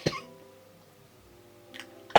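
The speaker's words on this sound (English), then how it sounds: "Wow, I just had a coughing fit" A woman lets out short, sharp coughs indoors: one burst at the start, then quiet, then two more close together at the end.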